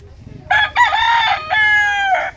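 A bulik breeding rooster, four years old, crows loudly and close by in one long drawn-out call. A brief low murmur comes just before the crow.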